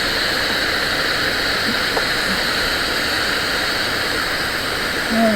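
A vacuum brake bleeder pulls air and brake fluid through an open bleeder valve, giving a loud, steady, unbroken hiss throughout.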